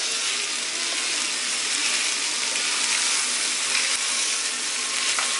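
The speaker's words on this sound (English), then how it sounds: "And you keep cooking it with the crushed red pepper." Sausage cooks with crushed red pepper flakes for Zuppa Toscana, giving a dense, steady sizzle and hiss that carries on loud and unbroken throughout.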